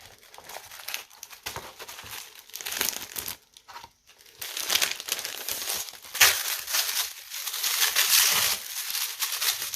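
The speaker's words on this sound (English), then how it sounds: "I love this tissue paper." Tissue paper from a package being unwrapped crinkles and rustles continuously at close range, in bursts of varying loudness with a brief pause midway.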